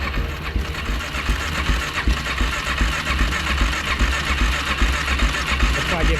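A Suzuki Z400 motorcycle engine cranks and sputters in a steady, rough, close-up mechanical churn that runs throughout without clearly catching, loud and continuous with no speech over it.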